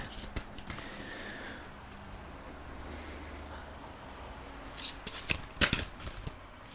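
A deck of oracle cards being shuffled close up, soft riffling and crisp flicks that grow busier near the end, over quiet room noise.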